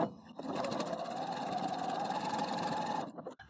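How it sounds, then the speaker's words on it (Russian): Sewing machine with a knit presser foot stitching knitted fabric, a steady close motor hum with fine rapid needle ticking that runs for about two and a half seconds, then stops. "мы устанавливаем лапку, подводим вязаное полотно под лапку и начинаем шить"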